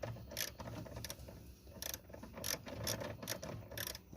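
A ratchet with a 13 mm socket backs out a battery bracket bolt low in a Chevy Avalanche, giving close, rapid clicking in repeated bursts with short pauses between strokes.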